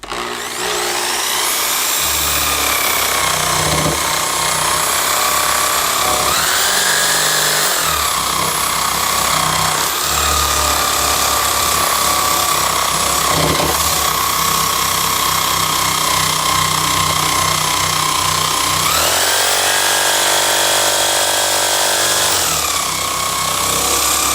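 A drill-mounted sanding attachment grinds along a wooden edge, giving a loud, steady high-pitched whir that holds for the whole stretch and shifts pitch as the load changes, with no talking.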